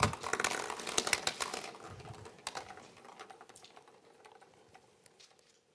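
Plastic draw balls shuffled and rattled in a glass bowl at the UEFA Champions League draw, a dense clatter of clicks loudest at first and thinning out over several seconds, with no talk.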